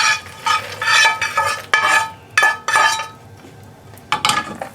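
Peanuts stirred into hot caramelized jaggery off the heat for peanut chikki, making loud repeated scraping strokes of a spoon against the pan with clinks and gritty rustling, in close bursts separated by brief pauses.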